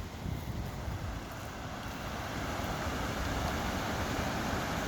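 Outdoors at a riverside, wind buffets the microphone over the continuous rush of flowing water, a dense, even roar that swells slightly toward the end.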